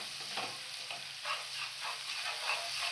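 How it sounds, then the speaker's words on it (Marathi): Onions fry in a pan for a Bombay duck masala, a faint steady sizzle broken by soft, rhythmic scraping strokes as they are stirred, with no voices. "कांद्याला चांगला खरपूस भाजून घ्यायचं असतं"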